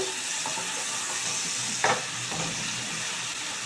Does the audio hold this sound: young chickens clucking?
no